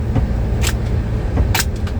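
Car cruising up a road near Montana 49, a steady low engine and road rumble heard from inside the cabin, with a couple of faint clicks and rattles and no talk.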